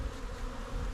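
Honeybees from a rescued tree colony buzz steadily around their hive, a dense, continuous, close drone of many wings with no talk.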